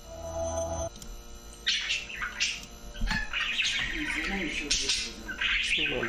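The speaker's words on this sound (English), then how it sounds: "Bird noise." Bird chirps and squawks come in bursts, close and fairly loud, mixed with other sound and intermittent talk.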